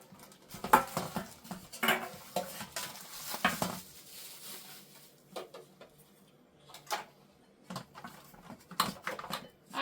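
Large metal heart-shaped baking pans clank and rattle as they are handled, a series of sharp, close metallic knocks and scrapes with quieter pauses between.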